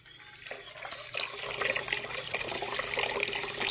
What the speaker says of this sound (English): now we're going to add in the 6 cups of coffee